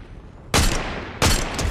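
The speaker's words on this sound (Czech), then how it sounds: "Někdo mě hrozně střílí a pušil nás." Two sharp bursts of rapid gunfire from a Fortnite match, close and loud, separated by a brief pause.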